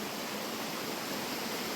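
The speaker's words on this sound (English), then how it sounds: "We made it to like a little waterfall here." A small waterfall on a camping hike makes a steady, dense broadband rush of falling water, constant and close with no pauses or voices.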